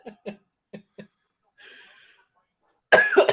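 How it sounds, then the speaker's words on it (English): One person coughs in a short harsh burst near the end, after a few soft earlier bursts and a brief breathy stretch, loud and close. "I can't stop coughing."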